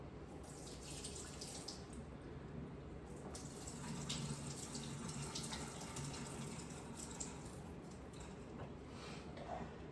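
Soaked almonds strained by hand, with water draining and splashing in a steady, unbroken trickle close by for about ten seconds, no voices.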